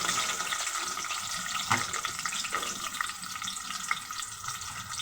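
Chopped onion fries with cinnamon, cloves and black pepper in a pan, a moderate hissing sizzle with watery bubbling and a few sharp stirring knocks.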